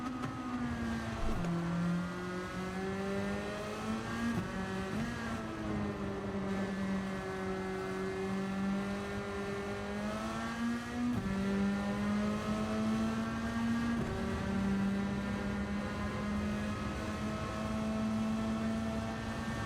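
A twitchy race car in a racing video game drones with a continuous engine note that rises and falls through gear changes, steady and moderately loud with no talk over it.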